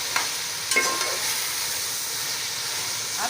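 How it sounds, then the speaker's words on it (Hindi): Beef being browned in a pot for Punjabi yakhni pulao, a steady soft sizzle and hiss with a few brief stirring scrapes near the start and end, moderately close and alone. "ये देखिए, इस तरह भून रही हूँ मैं, ताकि गोश्त भूनने से जो है ना थोड़ी सी गोश्त का जायका बनता है।"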